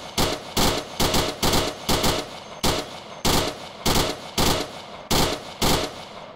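Rhythmic bursts of gunfire aimed at an occupied bunker in a military video game mission, with about a dozen short, sharp volleys in a steady, evenly spaced pattern, loud and close, with no talking.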